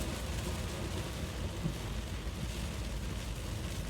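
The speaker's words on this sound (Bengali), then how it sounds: "অনেক জোরে বৃষ্টি হচ্ছে সামনের ভিজিবিলিটি অনেক কমে গেছে" Heavy rain drums steadily on a moving car in a downpour, a dense, unbroken roar with low rumble throughout and no voices.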